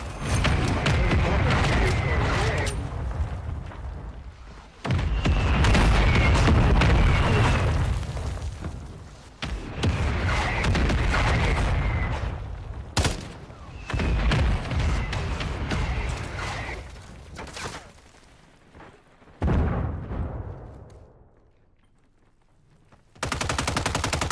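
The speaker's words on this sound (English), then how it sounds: "Friendly mortar strike is on the way." Video game mortar strike explosions and heavy gunfire roar in loud repeated bursts, with deep booms and rattling fire filling several long stretches before dropping away near the end.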